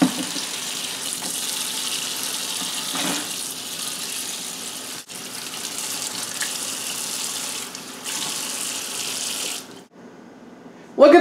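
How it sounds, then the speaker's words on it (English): Cool water pours steadily from a kitchen tap onto tomatoes in a sink, a continuous splashing hiss broken by brief pauses, ending abruptly. "I'm going to run some cool water over them, just so I can peel them easier."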